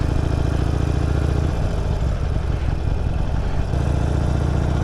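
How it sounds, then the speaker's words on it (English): Motorcycle engine running at low speed in first gear with the throttle barely open, a steady, close, continuous low rumble with a slight shift in tone partway through. "I'm barely turning the throttle. This is how easy I'm like barely turning it, and we're moving."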